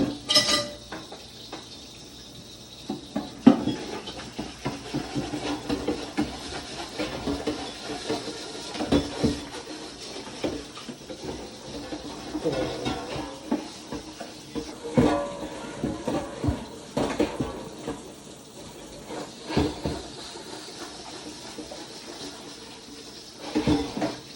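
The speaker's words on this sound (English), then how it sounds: "so then I'll wash this bowl out" A bowl being washed out in a sink after bread dough, with running water, clattering dishes and scrubbing knocks throughout, close and fairly loud, while people talk intermittently.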